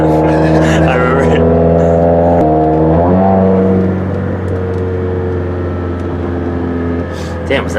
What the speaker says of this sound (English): Was that a downshift?